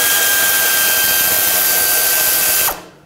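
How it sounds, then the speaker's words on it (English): Loud, continuous whine of a power tool spinning off the 8 mm bolt that holds the transmission dipstick tube on a 1997-2003 Ford F-150 5.4L engine, running steadily close up before stopping abruptly near the end. "we have to remove this 8 millimeter bolt that holds the transmission dipstick tube in"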